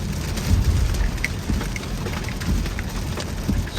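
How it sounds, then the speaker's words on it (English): Heavy rain driven slantwise against a car during a summer thunderstorm in Will County, Illinois, a close, continuous patter and drumming on the vehicle with occasional louder drops and low rumbling. "the rain is blowing kind of slanted towards my car"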